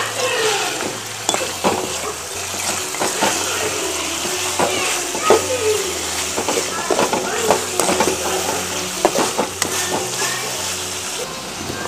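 Chicken frying and sizzling in a pan outdoors, with stirring scrapes and utensil clinks, close by while a person talks.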